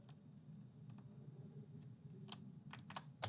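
A few sharp plastic clicks and taps over a low steady hum, quiet and close, as an escape keycap is pressed onto an Ajazz K620T 60% mechanical keyboard.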